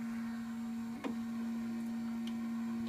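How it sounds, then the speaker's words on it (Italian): A Zebra ZXP Series 3 card printer runs its front cleaning cycle with a card drawn inside: a faint, steady electrical hum broken by one soft mechanical click and a few light ticks. "la stampante porta dentro la tessera e comincia il suo ciclo di pulizia frontale"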